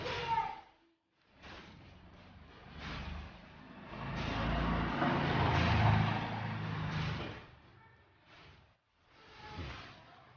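An All New Kia Morning (JA) is started remotely with a self-installed aftermarket start button. A brief burst is followed by a sustained engine rumble that swells midway, dips, and then returns.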